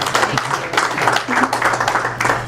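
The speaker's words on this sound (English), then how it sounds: "I'd like to give her one more round of applause" Applause fills a room at a farmers market dinner in Dunkirk, New York, dense steady clapping from a seated crowd, with scattered voices mixed in.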